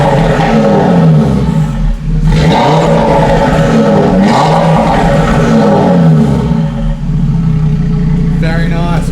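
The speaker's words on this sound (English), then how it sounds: "give it a few revs" An Audi RS3 fitted with a Milltek Sport non-resonated catback exhaust revs in a few loud rising and falling bursts close by, a deep roar holding steady between them, with a voice briefly speaking over the engine.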